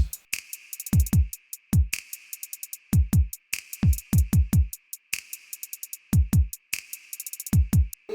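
A programmed drum beat with punchy kicks, sharp snares and busy, intricate hi-hat patterns repeating at a steady tempo, playing alone.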